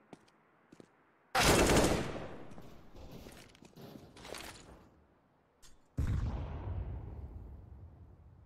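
Counter-Strike gunfire on the Nuke map, with AK rifles against pistols: two heavy bursts of close, loud automatic fire, each trailing into smaller scattered shots, separated by quieter gaps with faint clicks.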